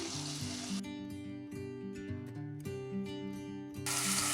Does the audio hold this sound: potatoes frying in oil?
yes